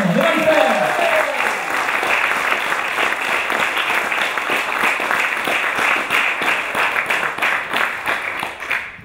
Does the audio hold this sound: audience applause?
yes